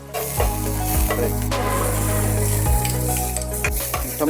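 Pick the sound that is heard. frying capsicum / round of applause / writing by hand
frying capsicum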